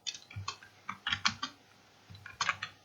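Close, crisp keystrokes on a computer keyboard while text is entered in MS Word, arriving in short irregular bursts with brief pauses, with no voices.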